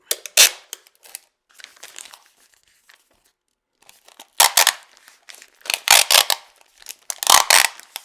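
Tape pulled and torn while wrapping butchered deer meat at home, sharp loud ripping bursts in several clusters with crinkling rustle of wrapping between them and quiet gaps.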